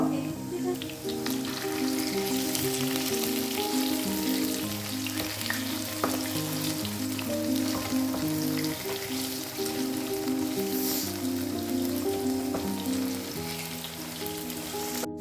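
Kinna porotta, a steamed rice roti, sizzles in a pan with a steady, even crackle throughout, partly covered by continuous background music.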